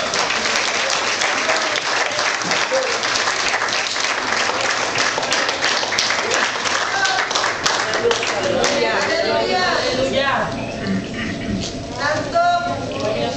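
A church congregation claps and applauds at length in a reverberant hall. The sustained applause thins toward the end as a voice speaks over it.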